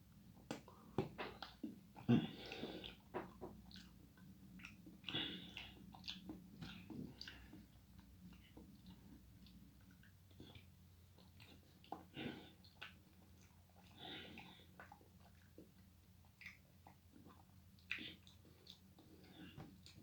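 Someone chews freeze-dried Mountain House biscuits and gravy with sausage pieces, close, with soft irregular wet bites and squishy mouth sounds spread over about twenty quiet seconds, no talking.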